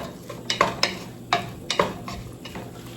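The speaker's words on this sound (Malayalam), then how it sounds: "ഇപ്പം നമ്മൾ ഈ സവാള എല്ലാം ഇട്ടൊന്ന് സവാളയും കൊച്ചുള്ളി ചെറുള്ളിയും കൂടി ഇട്ട് നമ്മളൊന്ന് വഴറ്റിയെടുക്കണം." Onions and shallots being sautéed in a pan for Kerala-style goat curry, heard as a low background sizzle broken by repeated scraping and clacking strokes of a spatula against the pan at an irregular pace, close and moderately loud.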